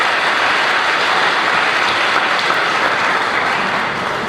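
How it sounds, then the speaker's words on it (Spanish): Applause from a church congregation welcoming visitors, a dense, steady patter of clapping that holds evenly and fades slightly at the end, with no talking. "Vamos a saludarlos con un aplauso porque nos alegra que"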